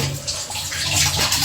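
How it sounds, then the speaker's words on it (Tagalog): Tap water pours into a container in a home kitchen, a loud, close, continuous splashing rush with no voices over it. "Tapos lagyan ng tubig."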